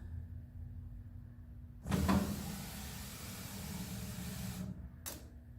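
An electric power window motor lowers the glass in a 1929 Chevrolet door under restoration, a steady close whir that starts with a sharp clunk, hums for about three seconds, then stops with a brief click.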